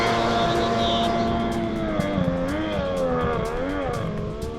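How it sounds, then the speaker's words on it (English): A Kawasaki X2 stand-up jet ski with a swapped-in 1100 engine runs a timed lap on open water. Its loud, continuous engine drone rises and falls in pitch throughout, with no voices. "I'm gonna go ahead and take the X2 out there first, set a lap time."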